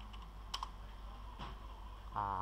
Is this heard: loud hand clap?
no